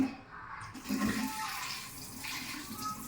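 Water runs from a tap indoors, a continuous close rush, fetched to fill a pet's drinking bowl, with no one speaking over it.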